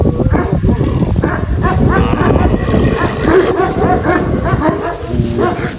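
A dog barks repeatedly nearby amid lively outdoor commotion, with people talking and other animal sounds mixed in.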